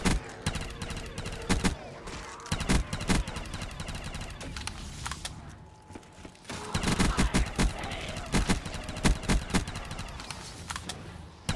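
Bursts of automatic gunfire cutting down zombies in a Black Ops 3 custom zombies map at round 40, rapid loud volleys in irregular clusters with a brief lull midway, game ambience underneath.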